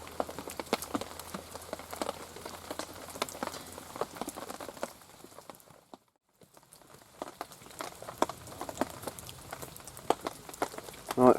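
Heavy rain patters steadily on a shelter at a wild camping spot, with a dense spread of close drips and a brief quiet gap partway through.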